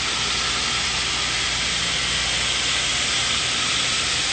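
Pork loin sears in a hot pan with the bone still in, melting grease hissing and spitting in a steady, loud, close sizzle with no break throughout.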